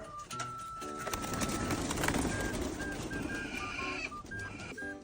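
Racing pigeons coo and chirp outdoors on an overcast morning, with soft repeated calls from several birds over a dense, hissing background.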